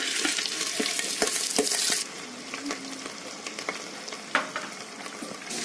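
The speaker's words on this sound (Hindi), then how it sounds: "इसको अच्छे से फ्राई करना है" Ginger garlic paste sizzles and crackles in a hot pan while a spoon stirs and taps against the metal with scattered clicks.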